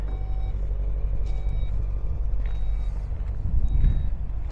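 A 2024 Porsche Cayenne Turbo GT in Arctic Grey closes its power tailgate with a low motor hum and a few evenly spaced electronic beeps, heard close up without any talk.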